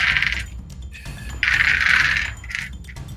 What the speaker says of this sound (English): I got a lot of dice here.